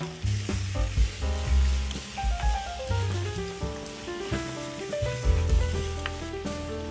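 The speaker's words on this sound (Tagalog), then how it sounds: "Tapos, ibalik natin yung meat. And then, igisa natin ng konti." Pork ribs sauté in a pan with garlic and onion, giving a steady close sizzle with occasional stirring scrapes under prominent background music.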